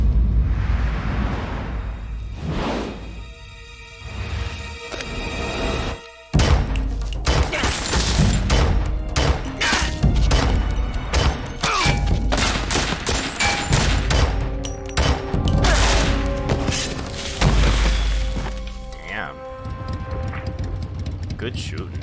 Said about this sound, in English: Good shooting.